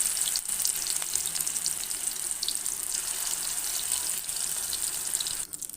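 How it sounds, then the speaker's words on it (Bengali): Small prawn fritters fry in hot oil, giving a loud, continuous close sizzle and crackle that holds steady throughout and thins out briefly at the end. "ছেড়ে দিচ্ছি এক এক করে চিংড়ি মাছের বড়া।"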